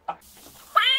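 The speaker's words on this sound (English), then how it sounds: "Kittens." A kitten meows twice, a short cry followed by a longer, brighter, rising meow, close and clear against near silence.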